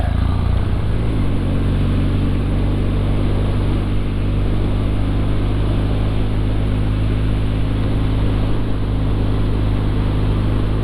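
Kawasaki motorcycle engine coming off throttle, with a loud rumble that drops in pitch early on and then settles into a steady, close-up drone for the rest of the stretch, with no talking.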